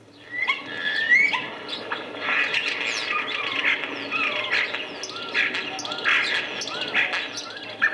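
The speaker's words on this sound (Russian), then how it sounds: "Вот скворцы отличаются базарным характером, хотя и добродушным." A flock of starlings gathering for migration chatters busily, with overlapping whistles, squeaks and rapid chirps, close and fairly loud in a continuous jumble.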